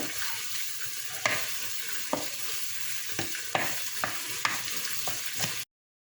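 Raw minced meat fries in a hot pan, a steady close sizzle broken by periodic scraping stirs of the spoon, before the sound cuts off abruptly.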